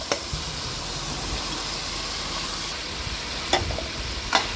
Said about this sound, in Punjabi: ਹੁਣ ਆਪਾਂ ਇਹਦੇ ਵਿੱਚ ਕੱਟੇ ਹੋਏ ਆਲੂ ਪਾ ਦਵਾਂਗੇ